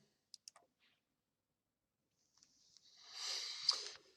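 A computer mouse gives a few quiet, isolated clicks near the start, followed later by a soft hissy rustle, all close and faint with no voices.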